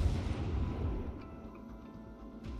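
A warship's main guns fire a heavy salvo in World of Warships, a deep booming blast with a long rumbling tail that fades over a couple of seconds.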